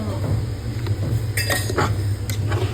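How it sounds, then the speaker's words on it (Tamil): A utensil clinks and scrapes against a pot as mushrooms are stirred for biryani, several sharp taps close by over a steady low hum. "மஷ்ரூம் போட்டு எல்லாம் கலக்கிறோம்."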